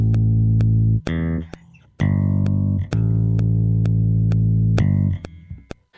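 A bass line from the Ample Bass TR6 virtual bass by Ample Sound plays loud, sustained low notes that change pitch every second or so. Crisp hi-hat ticks sit on top, and the line breaks off briefly near the end. Nobody speaks.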